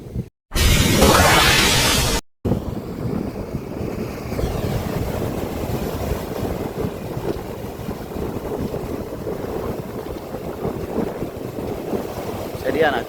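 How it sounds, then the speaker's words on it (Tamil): Strong wind blows over the sea at a beach as a boat passes, with heavy gusts buffeting the microphone, a loud rush near the start, and a voice speaking over the steady roar. "சரியான காற்று கடலில் பாருங்க இப்படி போட் வருதுண்டு."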